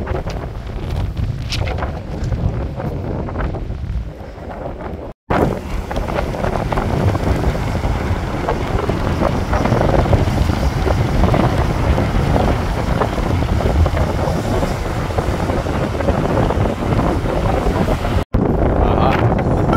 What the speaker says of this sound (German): Ah, es ist schon sehr windig.